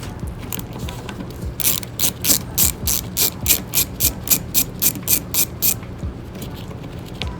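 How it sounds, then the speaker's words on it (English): A 7mm ratchet turns out bumper cover bolts on a 2011-2014 Chrysler 200 in a rapid run of about a dozen close, crisp clicks, steady and alone, before stopping. "on the bottom, there's gonna be bolts, and they're gonna be a 7mm ratchet"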